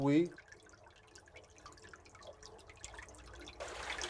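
Water trickles and drips faintly along a man-made stream dug to connect wells in a desert oasis at Timimoun, Algeria, a soft, steady wash with a slightly louder splash near the end.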